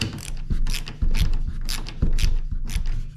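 A ratchet tightens 10mm bolts on Ford Bronco limb risers, giving rapid rhythmic clicking in short bursts, close and fairly loud, with no talking.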